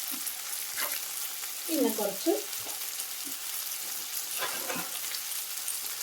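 Chilli powder, Kashmiri chilli and spices are stirred and fried in a pan for prawn roast, giving a steady close sizzle with scraping stirs and a brief spoken word over it.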